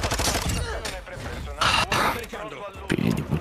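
Submachine gun fire in a video game, rapid dense bursts of shots mixed with loud, excited talking throughout.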